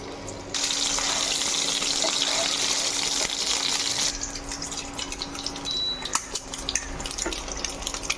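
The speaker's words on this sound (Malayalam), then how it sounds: "എണ്ണ ചൂടാകുമ്പോൾ നമുക്ക് ഈ മുട്ട ഒന്ന് ഫ്രൈ ചെയ്തെടുക്കാം" Eggs drop into hot coconut oil in a pan and erupt into a loud, dense sizzle that holds for several seconds, then settles into lighter crackling and spits, close with no talk.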